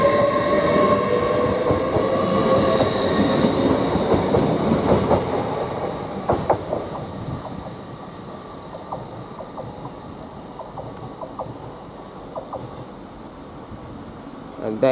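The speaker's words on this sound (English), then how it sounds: "Now we get his whole train now departing" A train leaves Doncaster station on the 11:04 London King's Cross to Hull service. A loud rumble fades as the carriages pull away, followed by rhythmic wheel clicks over rail joints, with faint voices in the background.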